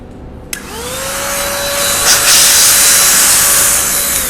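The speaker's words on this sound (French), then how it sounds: "On va le sécher avec notre souffleur." An air blower dries a car during a cleaning session, starting with a click and then rising into a loud, steady rushing hiss that holds for several seconds.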